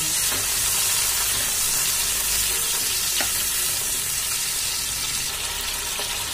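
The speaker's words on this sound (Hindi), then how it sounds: "दो मिनट तक हमने मशरूम को भी रोस्टेड कर लिया।" Mushrooms roast in a hot pan while being stirred, producing a loud, constant hissing sizzle with occasional scrape clicks and no voices.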